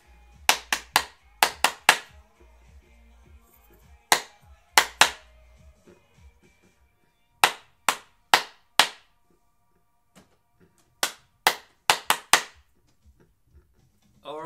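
Sharp hand claps in short bursts of two to four during a clapping game, loud and close, separated by pauses of near silence.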